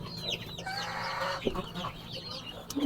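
Backyard chickens, a Black Australorp and a Cornish, in a small scrap-built coop, giving soft intermittent clucks and short calls at close range, fairly quiet.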